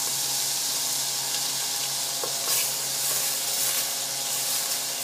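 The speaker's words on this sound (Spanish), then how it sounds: "Vamos a poner el ajo" Garlic frying in a hot pan for broccoli and cheddar soup, a continuous close hissing sizzle with faint crackles and light scraping, steady throughout with no talk.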